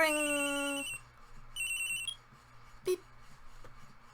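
Electronic phone ring from the Phoenix Wright: Ace Attorney video game, a bright warbling tone sounding in two bursts with a short chime-like blip after, clean and alone.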